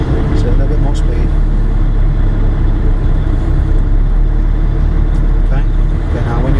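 A truck engine pulling away from a standstill: a steady, low diesel rumble holds throughout at a constant level, close and loud, while someone speaks over it.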